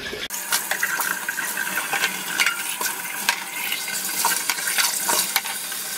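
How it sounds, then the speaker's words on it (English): Dr. Brown's baby bottles are rinsed under running water, a steady close splashing and trickling with small clinks of plastic, no voices. "So I'm just going to quickly rinse through these again."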